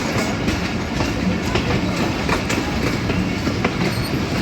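A rail car running alongside the Shaheen Passenger train between Sialkot Junction and Wazirabad Junction, with a steady loud rumble of wheels and rattling carriages and faint clickety-clack over the track joints throughout.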